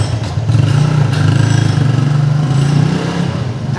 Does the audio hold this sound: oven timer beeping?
no